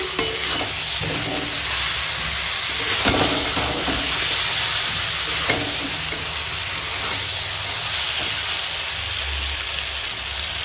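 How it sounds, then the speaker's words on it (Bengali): Goat meat sautéing in a pan for a rich kosha, a continuous loud sizzle with repeated stirring scrapes and occasional spatula knocks, close up and with no talking. "এখন মাংস কষাচ্ছি।"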